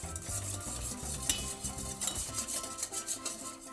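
Sugar being stirred through melted cocoa butter for homemade white chocolate, a steady scraping and swishing of a utensil in a bowl, close and continuous with no talking.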